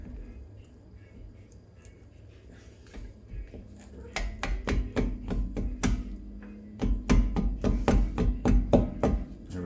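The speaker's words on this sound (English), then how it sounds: "And mallet." A mallet taps repeatedly during front brake pad replacement on a 2003 Lexus LS430, close sharp knocks coming in quick bursts after a quieter stretch with faint handling noise.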